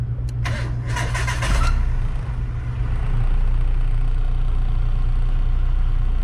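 A car engine fitted with an OBD2 Nitro chip cranks with a rapid whirring starter for about a second and a half, catches, then settles into a loud steady idle close by.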